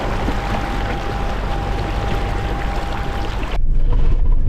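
Vehicle pushing through a rocky water crossing on the Gibb River Road: continuous loud rushing, splashing water mixed with engine drone, ending with a brief heavier surge of spray.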